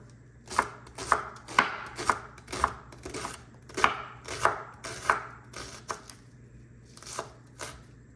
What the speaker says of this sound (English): I love shallots, so let's chop some up.